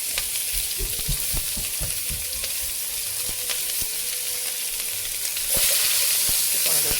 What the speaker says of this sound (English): we're going to start off by frying our onions and green onions